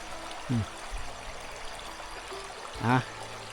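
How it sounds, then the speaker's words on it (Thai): A clear, cool stream flows at a remote rural village, a steady soft wash of running water throughout, with two brief bursts of speech rising over it. "ถ้าพวกเราจะเห็นน้ำใสไหลเย็น"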